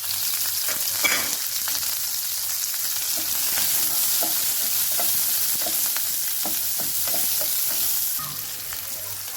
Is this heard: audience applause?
no